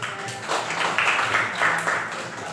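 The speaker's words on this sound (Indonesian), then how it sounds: "kasih tepuk tangan buat Kesia" A classroom of students claps for a classmate named Kesia, uneven bursts of scattered hand claps rising and falling over a few seconds.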